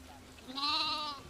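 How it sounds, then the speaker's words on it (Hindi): A lamb at a shepherds' camp gives one short, fairly faint bleat lasting under a second, heard alone with no talk. "भेड़ का बच्चा।"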